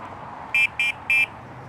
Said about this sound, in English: Got our horn. That's a loud horn.